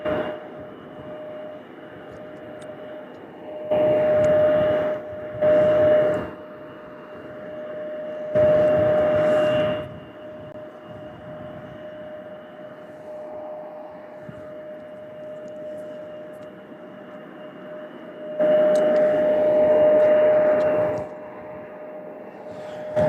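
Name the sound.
American Airlines jet departing Louisville International Airport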